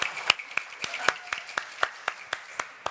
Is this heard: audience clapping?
yes